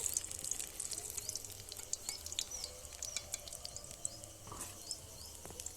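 Tomato cutlets fry gently in oil over a low flame, giving a faint, steady crackle and patter of small pops that stays quiet and even throughout, with no voices.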